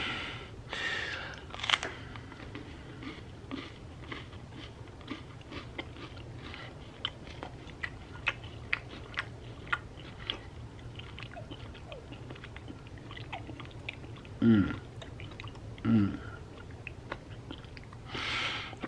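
Quiet, close chewing of homemade Christmas Crunch crispy cereal treats made with butter and marshmallows, with small crunches and mouth clicks scattered throughout and a few louder bites near the end.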